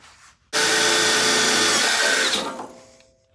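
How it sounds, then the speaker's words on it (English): Power drill boring holes through a part on a super modified race car, a sudden loud whine that holds steady for about two seconds, then tails off as the bit stops, close to the listener. "And we'll drill the holes."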